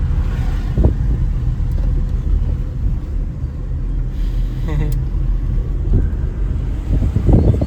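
A car drives through the leafy, quiet campus of IIT Bombay, giving a steady close engine rumble with some wind buffeting, while people talk over it throughout.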